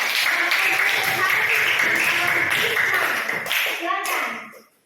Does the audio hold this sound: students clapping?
yes